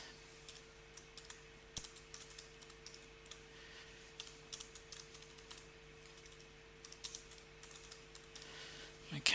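Typing on a computer keyboard while entering a room-rate booking into software, with irregular bursts of light key clicks, close and fairly quiet over a steady electrical hum.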